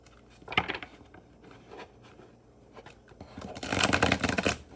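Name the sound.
shuffling and flipping tarot cards on a surface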